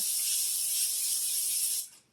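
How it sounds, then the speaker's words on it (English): A steady close hiss of cooking spray onto parchment paper for about two seconds, then cutting off. "I'm going to spray the parchment paper"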